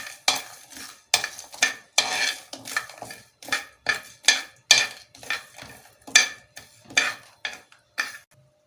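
Spices frying in a lightly heated frying pan for chicken angara, stirred in quick repeated strokes; loud rhythmic scraping bursts of the spoon against the pan over a faint sizzle.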